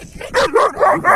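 A small dog gives a few short, yappy barks and whines in quick succession, close by.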